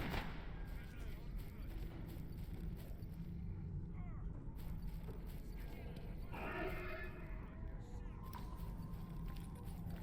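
Squad gunfire in the STALKER video game: a quiet, fairly distant patter of repeated shots and snaps over a steady ambient rumble, with someone talking over part of it.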